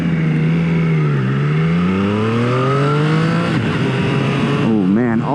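A 2021 Triumph Street Triple R in sport mode, its engine dipping and then climbing steadily in pitch as it revs up through a gear, loud and close with wind rush, with a quick blip near the end.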